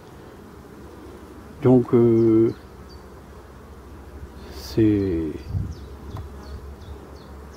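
Black bees buzz steadily around their hives, a close insect drone with a few louder swells as bees pass near, while someone speaks briefly.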